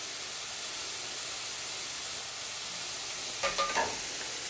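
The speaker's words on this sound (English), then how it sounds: "saute up these mushrooms just to soften them up just a touch" Mushrooms sauteing in a pan give a steady, faint hissing sizzle, with a brief burst of stirring scrapes and clatter near the end.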